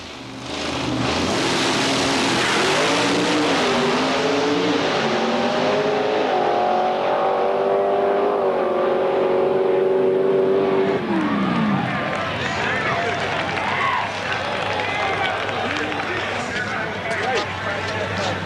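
Drag racing cars in an exhibition race at a Superstock reunion, with a Ford Probe named among them, roaring loudly as engines rev and shift through rising gears, then fading into crowd noise and talk.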